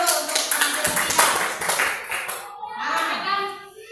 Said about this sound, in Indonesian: Tepuk tangan dulu untuk penampilan ketiga